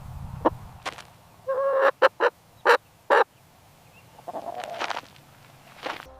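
A chicken makes a series of short, abrupt clucks and squawks, several close together in a burst, then a few more spaced out later, with quiet gaps between.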